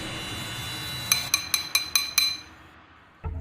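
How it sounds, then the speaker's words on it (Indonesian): A street food vendor selling fried rice walks an alley striking a spoon against a bowl: six quick, bright metallic clinks in an even rhythm, followed by a dull thud after a pause. "Seperti biasa, Kang Agus menyusuri gang itu sambil memukul-mukul mangkok"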